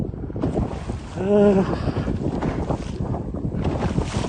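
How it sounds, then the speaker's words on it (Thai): Strong wind at sea on a boat off the Thai Gulf coast, a loud, continuous roar of wind over the microphone with water rushing beneath and a brief tonal engine whine, while someone talks. "ตอนนี้เรากำลังจะ ขึ้นลมแรงครับ"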